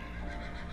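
A horse in a Roblox video game gives a brief, loud neigh, a short buzzy whinny with no other sound around it.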